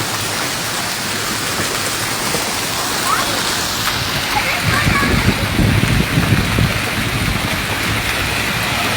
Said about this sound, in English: Oh, that hail is getting bigger.